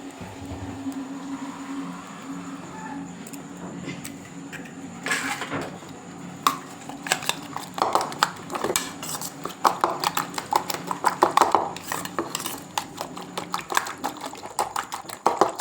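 Eggs seasoned with salt, turmeric and chili powder are beaten in a bowl for an omelette: after a quiet start, a rapid clattering of utensil against bowl builds into dense, fast, uneven clicks, close and moderately loud.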